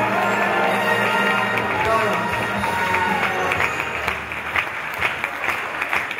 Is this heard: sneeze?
no